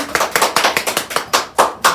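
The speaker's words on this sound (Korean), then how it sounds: "박수." Hand clapping in a classroom setting, a handful of people clapping in a brisk uneven rhythm, loud and close, about a dozen distinct claps with no speech.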